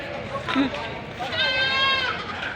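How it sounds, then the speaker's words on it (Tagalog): Goats bleat in a short burst at a livestock market, a wavering cry rising over someone talking nearby. "Ang kambing ho ngayon."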